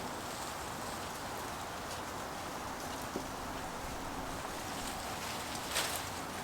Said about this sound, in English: It's getting very windy now out here